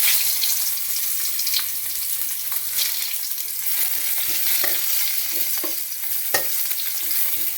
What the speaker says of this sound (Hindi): पकईदे पियाज